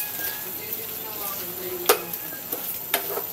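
A utensil stirs sautéed vegetables and cabbage with shrimp in a pan, giving a steady sizzle broken by a few sharp scrapes and clinks.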